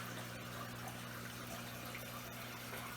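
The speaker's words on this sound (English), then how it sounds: "So I got the water level low, lower than normal, because I'm siphoning that out." Water is siphoned out of a shrimp tank with its level lowered, making a faint, steady gushing and trickling with a low pump-like hum throughout and no voices.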